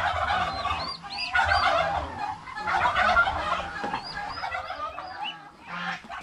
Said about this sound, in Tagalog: May bagong sisiw naman ng pabo.